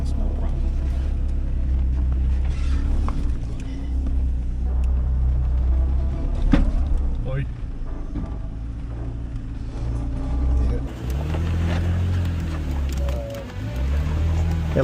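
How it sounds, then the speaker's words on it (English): An off-road truck crawls through holes at the Azusa Canyon OHV area, its engine a low, continuous drone punctuated by uneven bumps and creaks as the chassis articulates, with faint voices now and then. "I'm going to drive into the holes and the whole truck is going to articulate through them."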